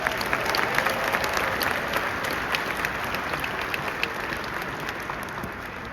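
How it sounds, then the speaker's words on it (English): A graduation ceremony crowd applauds steadily, a large audience's continuous clapping with a few sharper claps standing out, easing off slightly toward the end. "So please give yourselves a round of applause for earning your spot here today."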